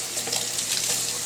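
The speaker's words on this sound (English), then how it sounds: "Sorry that I'm talking while I'm washing the other press that I just used." A short burst of running tap water as a tofu press is washed at a sink, a close, steady splashing hiss with no voices.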